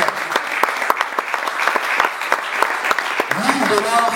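Audience applause at a live event, a dense crowd clapping close and steady throughout, with a voice speaking over it toward the end.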